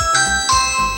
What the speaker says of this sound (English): So if they hit the doorbell,